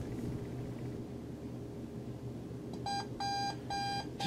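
After a stretch of quiet room hum, the alarm of a GE clock radio with cassette, model 7-4915A, starts beeping in short, evenly spaced bursts, close and clear.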